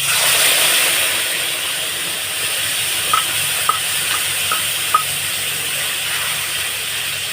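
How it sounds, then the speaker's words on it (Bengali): Ground spice paste frying in hot oil with dried chillies and bay leaves for paneer posto, a steady loud sizzle with a few faint clicks of a spoon against the pan. "এবারে বেটে রাখা মশলা দিয়ে দেবো।"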